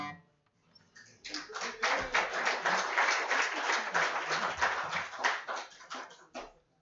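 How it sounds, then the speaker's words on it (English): An audience at a stand-up comedy show breaks into steady, dense clapping that builds within the first second, holds strong for about five seconds, then thins and tapers off. "Was that reluctant applause?"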